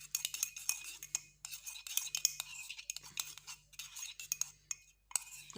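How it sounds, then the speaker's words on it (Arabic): Small spoon stirring a mixture with a pinch of ground cinnamon, producing light rhythmic scraping and clinking strokes, close and fairly quiet, with soft sounds in the background. "كنحركوها مزيان"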